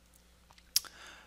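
Single sharp computer mouse click, faint and close, with a softer click just before it and quiet room noise around it.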